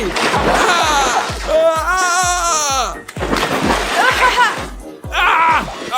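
Water splashes at a swimming pool party in rhythmic bursts, loud and close, overlapped by excited high-pitched voices chattering and squealing throughout.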